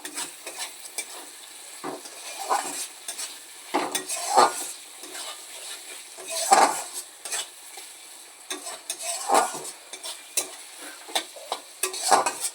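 Potatoes stir-fried in hot spiced oil for a tengra fish dish: a steady close sizzle with repeated scraping and clinking stirs of a utensil against the pan, no voices.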